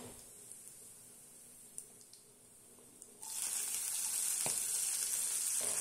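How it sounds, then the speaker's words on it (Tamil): Chana dal and urad dal hitting hot oil, a quiet stretch of faint clicks giving way to a sudden loud, steady sizzle that continues close up to the end. "இந்த டைமில் கடலப்பருப்பு உளுத்தம்பருப்பு தேவையான அளவு சேர்த்துக்கிட்டேன். சேர்த்துட்டு நல்லா நம்ம வறுத்துக்கலாம்."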